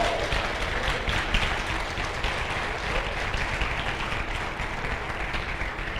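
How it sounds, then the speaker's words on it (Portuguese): Applause fills a church hall, a steady wash of congregation clapping that continues without pause, loud and dense, with no voices cutting through. "Você pode aplaudir o Senhor."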